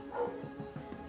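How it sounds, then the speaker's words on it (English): A neighbor's dog barks faintly in the background, a few soft, distant yips in quick succession with no talking. "excuse the dog in the background."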